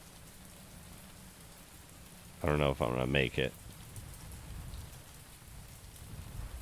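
Rain falls at night in a video game, a soft continuous patter that swells slightly toward the end, with a person briefly talking over it.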